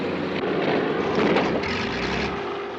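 Aircraft engine droning loud and steady with its starboard engine failing, a dense, roaring propeller hum that swells slightly midway and holds throughout, with no voices.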